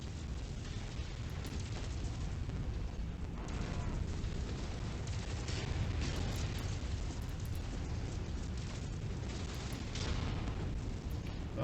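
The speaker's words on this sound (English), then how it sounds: "Somebody's shooting at me from behind" Weapons fire in the mech combat game MechWarrior 5: Mercenaries: a steady barrage of booming, rumbling blasts and explosions that runs the whole time, dense and loud with no clear gaps.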